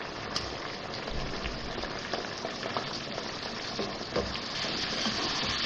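Chicken korma fries with spices in a pan, a dense continuous sizzle and bubbling with scattered small clicks and scrapes, steady and close, no voices.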